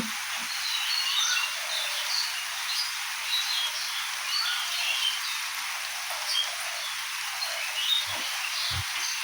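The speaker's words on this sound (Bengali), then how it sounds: "টিনের চালে শব্দ হচ্ছে।" Steady rain drums on a tin roof during a heavy morning downpour at a village house, a continuous hiss of close drops with no talk, broken by a couple of faint low knocks near the end.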